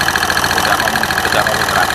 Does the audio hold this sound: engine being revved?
yes